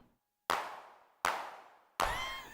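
Three electronic handclap hits ring out one after another at a steady pace, each a sharp, noisy burst with a short reverberant tail, with no voices.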